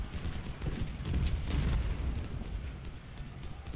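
Artillery fire in the Civil War battle game Ultimate General: Civil War at Antietam, a low rumbling barrage of distant booms and cracks, faint and continuous, swelling slightly midway, with no talk.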